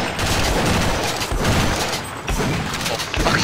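Dense, continuous gunfire in the co-op shooter Sven Co-op, a steady barrage of overlapping shots and thuds filling the whole stretch with no talk over it.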